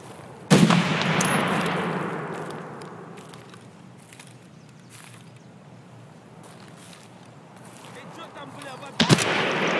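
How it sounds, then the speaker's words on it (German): Gunfire in the video game Escape From Tarkov: a sharp, loud shot rings out and fades into a long rumbling tail, and a second crack follows about nine seconds later. "Hat er jetzt auf mich geschossen?"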